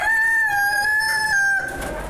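A rooster crows once in a long, drawn-out call, loud and close, with farmyard noise in the background at a poultry market.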